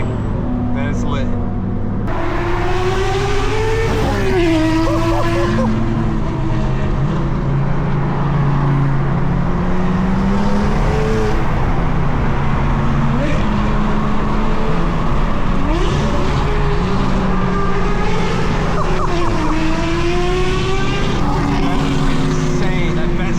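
A tuned BMW M4 G82 and other supercars roar along with loud exhaust, engines rising and falling through revs and gear changes in a steady dense rumble, with voices talking over the noise.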